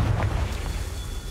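A Confringo fire spell in Hogwarts Legacy bursts into a deep, booming explosion that hits at once and rolls off into a low rumble over about a second.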